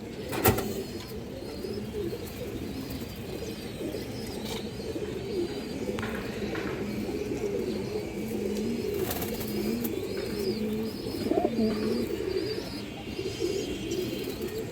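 Pigeons coo softly and continuously in a loft, a low warbling murmur with occasional chirps and a sharp knock near the start, faint and steady throughout.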